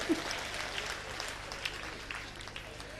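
Steady applause from an audience at a Hindi comedy poetry gathering, a soft continuous wash of clapping heard from some distance, moderately loud and unbroken throughout.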